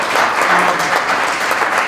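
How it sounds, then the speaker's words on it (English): Steady, dense applause from a crowd at a public policy health care event, continuous clapping throughout at close range. "if you could please give a round of applause again for Dave"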